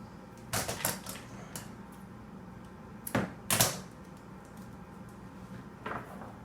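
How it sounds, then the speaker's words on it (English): Electrical tape is unrolled and wrapped around a damaged electrical cord in a few short, sharp ripping pulls, separated by quiet pauses and heard up close. "I'm going to go ahead now and wrap some electrical tape on there just to kind of seal everything."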